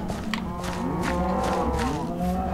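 Cows low in a farm video game, several long moos overlapping at steady loudness against a faint ambient background, with no voices.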